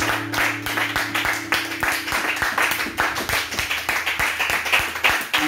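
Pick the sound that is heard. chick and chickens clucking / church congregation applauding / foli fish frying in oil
church congregation applauding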